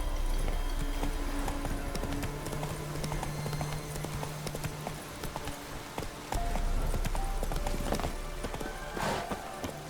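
Roach the horse's hooves clip-clop steadily on the ground in The Witcher 3, a continuous trotting rhythm over a constant ambient game soundscape, with no speech.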